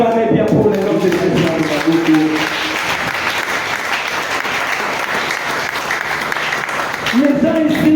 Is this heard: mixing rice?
no